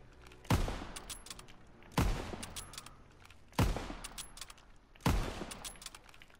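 A gun fires at a firing range in a WW2 video game: four loud, sharp shots spaced about 1.5 seconds apart, each trailing off into a ringing echo.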